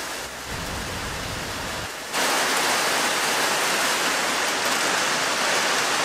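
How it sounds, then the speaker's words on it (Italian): Heavy rain pours down in Bangkok as a dense, loud, continuous hiss that swells sharply after two seconds into a full downpour, with no voices. "Sta piovendo tantissimo, però solitamente non dovrebbe durare tanto."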